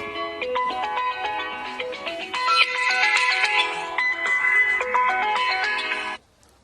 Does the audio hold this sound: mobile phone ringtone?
yes